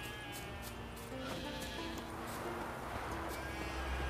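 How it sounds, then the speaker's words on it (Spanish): Sheep bleating in The Witcher 3: Wild Hunt, several drawn-out bleats from a flock overlapping above a constant game ambience and music bed, fairly faint with no speech. "cuánta oveja!"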